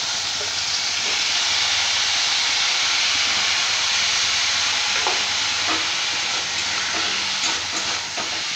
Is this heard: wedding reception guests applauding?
no